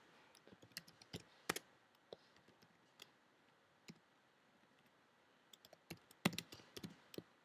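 Keys on a computer keyboard are tapped in quick irregular bursts, close but quiet, with a pause in the middle before another flurry of clicks, no talking.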